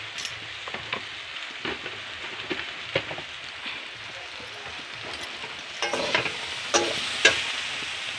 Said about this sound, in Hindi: मैंने इधर सब्जी चढ़ा दी है और इधर मैंने दूध उबालने के लिए बैठा दिया है।